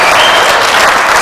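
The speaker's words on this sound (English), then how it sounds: "Huge reaction from the crowd." Audience applause fills the moment, a dense, steady burst of clapping from a large crowd, loud and close with no speech over it.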